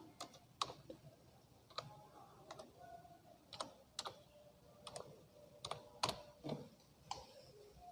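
Name being typed on a computer keyboard in MS Word, heard as faint, sparse key clicks spaced out over several seconds in a quiet room.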